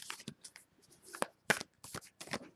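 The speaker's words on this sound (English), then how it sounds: "These cards are so bulky, and I said this in every reading. They're so hard to shuffle." Bulky, awkwardly shaped tarot cards being shuffled by hand, a series of close, crisp riffling and slapping bursts in irregular rhythm with short pauses between.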